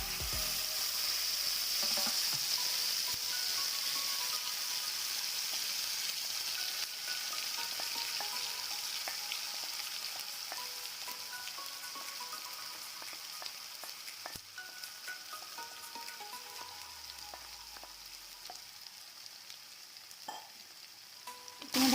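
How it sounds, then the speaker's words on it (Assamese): Gravy for pointed gourd curry sizzles and fries in hot oil in a wok, a steady, close crackling hiss that continues throughout with occasional stirring clatter. "কেৰাহীত তেলখিনি গৰম হ'বলৈ দিলোঁ। এতিয়া ইয়াত গ্ৰেভিখিনি দি দিছোঁ।"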